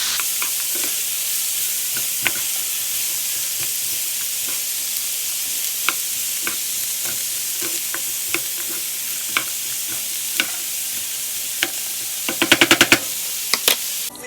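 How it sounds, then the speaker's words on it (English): Chopped vegetables and onions frying in a pan, a steady close sizzle with scattered light crackles and ticks, ending in a brief burst of rapid clicks, no talk. "just let it cook until these vegetables are starting to get soft"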